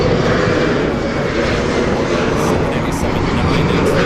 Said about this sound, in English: Another heavy heading our way. United Airlines Flight 802 coming from Hong Kong.